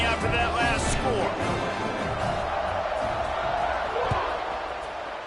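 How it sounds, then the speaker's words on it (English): A college football stadium crowd buzzes steadily after a touchdown, a dense, distant roar that holds throughout and slowly fades slightly, with a commentator's voice over it. "this crowd is buzzing after that last score"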